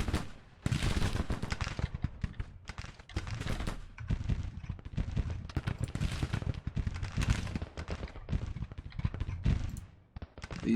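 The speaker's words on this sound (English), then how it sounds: "We're firing on the enemy's flank." Musket infantry volleys crackle across a Civil War woodland battle in Grand Tactician, a ragged stream of overlapping shots and bursts that stays busy and moderately loud from start to finish.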